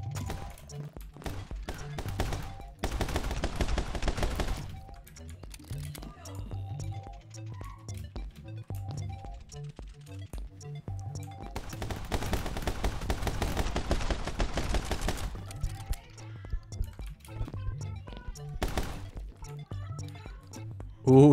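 Rapid bursts of pistol fire from the video game My Friend Pedro, double pistols, come in two dense clusters separated by quieter game sound, with background music underneath.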